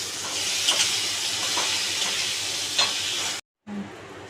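Boiled potatoes and chickpeas fry with spices in a pan for a vegetarian ghugni, giving a loud steady sizzle with scraping stirs. A short gap near the end breaks it before the frying resumes.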